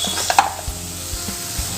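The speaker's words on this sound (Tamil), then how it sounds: "ஆயிலில் இது மாதிரி வதக்கும் போது மசாலாவோட பச்சை வாசனை போயிருங்க" Turmeric and asafoetida sautéing in a little oil for a rasam, a short soft sizzle with a few sharp clinks and scrapes of a spoon against the pan, close by.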